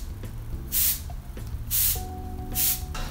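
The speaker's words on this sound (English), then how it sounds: "Can I spray?" Cleaner sprayed in three short, loud hissing spurts onto the screen of an Apple Thunderbolt Display, evenly spaced about a second apart over faint background hum.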